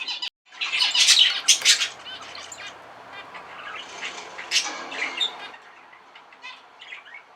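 A male zebra finch sings at close range, with loud bursts of buzzy, squeaky notes and chirps near the start and again midway, separated by softer twittering and brief pauses.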